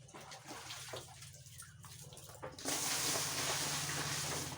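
Cold water from a backyard well poured over the body during an early-morning bath in the rural Philippines; a low hum and faint trickling give way to a loud, steady rush of splashing water that continues to the end.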